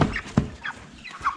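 Ross 308 broiler chickens around thirty days old give a few short, nearby clucks spaced apart, with soft rustling and quieter murmurs of the flock between the calls.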